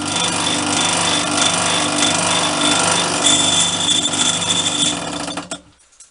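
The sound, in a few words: vintage bench drill drilling through metal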